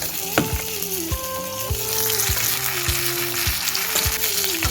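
Pond fish and prawns fry in hot oil with a loud, constant crackling sizzle. Spattering pops and faint scraping recur throughout, with no voices.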